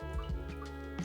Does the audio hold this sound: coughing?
no